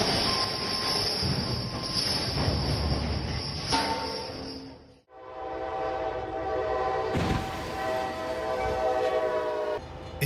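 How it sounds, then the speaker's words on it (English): A train rumbles along the tracks toward a truck stuck on the crossing, its horn sounding with steady harmonic tones over heavy rolling noise that swells louder toward the end. "A truck gets stuck on the tracks, a train barrels in like a steel giant"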